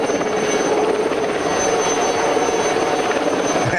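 A helicopter flies steadily with a constant broadband rotor and engine roar, loud and close, continuous with no pauses and no voices, on a remote site where everything must be brought up by air.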